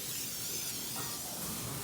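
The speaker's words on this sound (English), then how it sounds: "I'm just spraying on some regular butter spray" A steady hiss of butter spray from an aerosol can onto brisket, continuous and close, with no voices.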